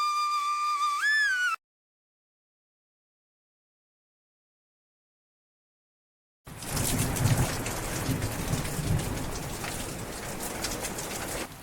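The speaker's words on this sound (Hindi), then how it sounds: "बाहर तो बहुत तेज बारिश हो रही है।" Heavy rain pours steadily outdoors, a dense, loud wash that starts abruptly after a stretch of silence, with faint bird calls and a brief tonal sound before it.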